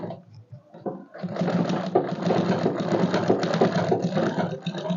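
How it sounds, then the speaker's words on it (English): A sewing machine stitches a pleat on a ball gown, starting after a moment of quiet handling and running in a steady, close whir for several seconds. "I'm going to sew it down now sew it down by like 4 inches"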